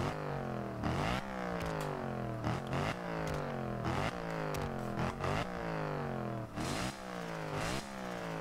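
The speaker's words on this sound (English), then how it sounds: "You can just hear those turbos sucking in air." A Mercedes-Benz SLS AMG with turbo engine in the Forza Horizon 2 racing game revs repeatedly, climbing through gears with sharp shift breaks in a rising, falling rhythm. The level stays fairly quiet, with no talk.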